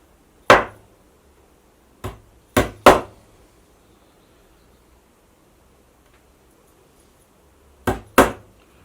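A hammer drives upholstery tacks into webbing in six sharp, close, loud blows, some in quick pairs, separated by quiet pauses.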